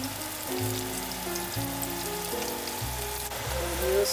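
Whole spices (cinnamon stick, cloves, cardamom) and bay leaves sizzle in hot oil for Omani qalya, a steady, close, crackling fry with no talk over it.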